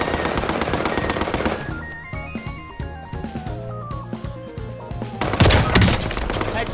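Gunfire in the Call of Duty Warzone video game, rapid bursts of automatic fire and scattered shots with a sharp, dense volley near the end, loud and close.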